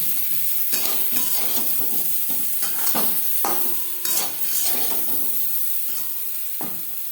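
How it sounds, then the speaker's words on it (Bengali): Boiled potatoes fry in a pan with salt, turmeric and chili powder, giving a close, steady sizzle broken by repeated scraping and clinking strokes of a stirring spatula, with no voices. "লবণ হলুদও সামান্য পরিমাণে লাল লঙ্কার গুঁড়ো দিয়ে আলু ভেজে নেব"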